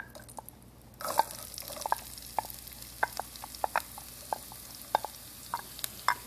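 Onion sautés in a pan with cumin seeds, starting with a burst of sizzle as it is added, then a soft crackle with scattered sharp pops and utensil taps, quiet and close.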